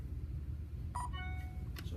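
A phone chirps a short run of electronic beeps in a lab beside a profilometer. The brief tones rise over a low, steady background hum, with a second faint chirp just after.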